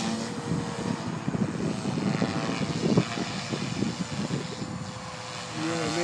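A Mini Protos Stretch radio-controlled helicopter with 350mm blades flies outdoors near trees, its rotor whine and buzz rising and falling through the clip, with wind noise and a brief voice.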